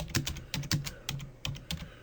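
Close, quick clicks from fingers typing on a computer keyboard come in short irregular bursts with brief pauses, heard alone without any talking.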